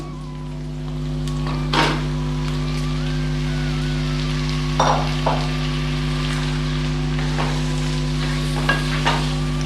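Marinated pepper chicken frying in a pan, a steady loud sizzle with a low hum beneath it and a few scraping stirs at intervals.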